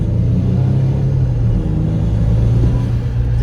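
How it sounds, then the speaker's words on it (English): Range Rover Sport SDV6 3.0 TDI diesel under hard acceleration, a heavy, steady engine rumble and drone heard from inside the cabin. "when you put your foot down, it's got a bit of lag, and then it just Whoop"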